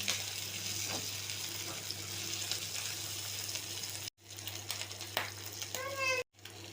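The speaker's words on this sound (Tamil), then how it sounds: "நம்ம பிச்சு வச்ச சிக்கனை சேர்த்துக்கலாம். ஒரு நிமிஷம் சிக்கனை இப்படி வதக்கலாம்." Chicken pieces sautéing with softened onions in a pan, a steady close sizzle broken by a few short gaps, with clinks from stirring; a voice is faintly present.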